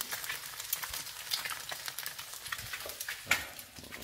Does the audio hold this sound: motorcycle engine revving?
no